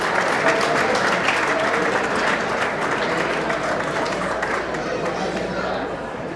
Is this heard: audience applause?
yes